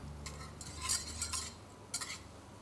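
A whisk scrapes and taps in a pan while flour is worked into melted butter over fairly high heat, giving brief bright metallic strokes in quick bursts over a soft background.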